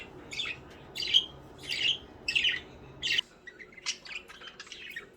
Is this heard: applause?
no